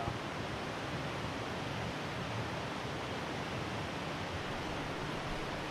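Fast-moving river water rushes steadily, a dense, even broadband roar close by with no pauses, no voices and no other sounds over it.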